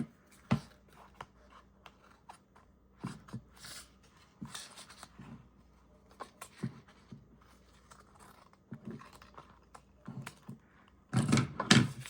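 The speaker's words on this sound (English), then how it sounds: "And then I'm going to trim from this side" Scissors trimming excess paper from a handmade envelope folio for a junk journal, heard as scattered soft snips and paper rustles close by, ending in a louder burst of crisp cutting and handling.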